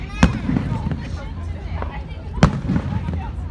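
Fourth of July fireworks bursting outdoors: two sharp, booming bangs about two seconds apart, each followed by a crackling tail, with voices murmuring in the background.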